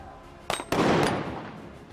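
Sniper rifle shots fired from the top of a tower at long-range targets during a SWAT challenge competition in the UAE: two sharp, loud cracks about a quarter second apart, the second followed by a long, rolling echo that slowly fades.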